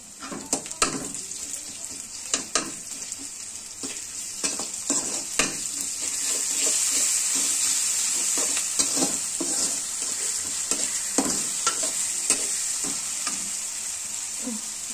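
Onion frying in a pan with garlic paste added, for a Bengali chicken curry with bottle gourd; a steady close sizzle runs throughout, broken by frequent scraping stirs and clinks of a spoon against the pan.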